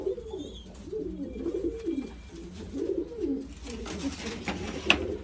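Pigeons coo in soft, low, rolling phrases that repeat steadily, fairly close, over a quiet background with a faint flutter near the end.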